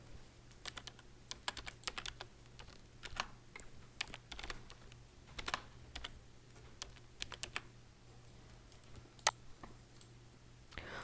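Steady typing on a computer keyboard while entering Python code, a run of close, light key clicks at an irregular pace, fairly quiet with no talk over it.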